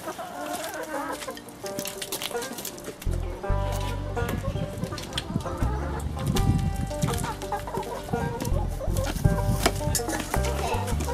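Chickens being let out of their coop cluck and call repeatedly at close range, with occasional thumps and rustling of movement around them, on a wet spring day.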